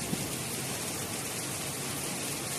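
Rain at the start of the rainy season in a rural orchard of mango trees, a dense, even, steady hiss that stays unbroken and fairly loud throughout, with no voices.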